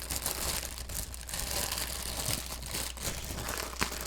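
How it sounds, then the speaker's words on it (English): Close, steady crinkling of plastic packaging holding LEGO Technic parts, continuous rustling and crackling with a few sharper crunches, no talking. "crinkling plastic moments."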